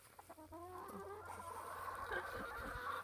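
Hens cluck and a rooster calls close by in a spring garden, with overlapping bird voices running continuously over a low background hum.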